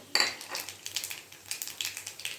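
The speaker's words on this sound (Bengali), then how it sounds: "কড়াতে আমি তেল দিয়ে দিচ্ছি। দেখো, কালো জিরে ফোড়নে দিয়ে দিলাম" Black cumin seeds tempering in hot oil in a wok, giving a quick run of soft crackles and pops close by, with no voices.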